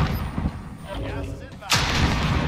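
Booming gunfire in the Warzone video game, a deep heavy shot cracking out midway through an otherwise steady rumbling battle background.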